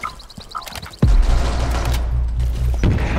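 Gunfire in the Rainbow Six Siege video game, a sudden loud boom followed by a sustained rattling fusillade of shots, up close and continuing to the end.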